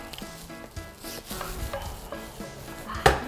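Vegetables and lettuce stir-fried in a pan, with soft sizzling, scraping stirs and a sharp clatter near the end as the pan is tossed, heard up close and without talk.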